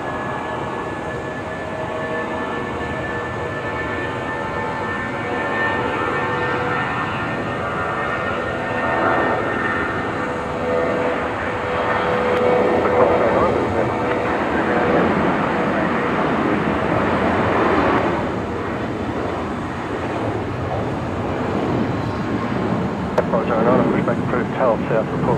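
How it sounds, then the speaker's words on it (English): Jetstar Airbus A320 airliner taking off at twilight from Brisbane Airport, a steady broad engine roar that builds and holds, heard from a distance for the whole stretch, with air traffic radio chatter faintly mixed in. "Jetstar 485 on screen now. The 320 heading to Newcastle tonight."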